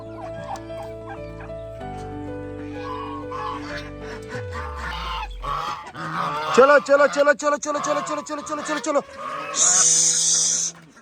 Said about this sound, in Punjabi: ਜੱਟੂ ਛੱਡੇਗਾ ਜੀ ਅੱਜ ਕੁੱਕੜ